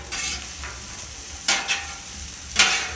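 Potatoes and Brussels sprouts are tossed on a Camp Chef flat top griddle, a steady sizzle broken by three sharp scraping bursts of the spatula, close and fairly loud, with no talking.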